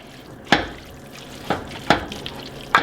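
A spoon stirring ground meat and vegetables frying in a pot for chili: four sharp scraping clacks at uneven intervals over a soft background sizzle.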